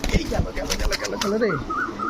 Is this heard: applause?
no